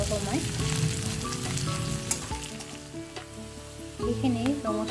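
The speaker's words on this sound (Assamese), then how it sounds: "এইখিনি মই ৰঙচুৱা হোৱালৈকে ভাজিম" Jackfruit seeds frying in oil until reddish, a steady close sizzle with stirring clatter and a few sharp scrapes of a spoon in the pan.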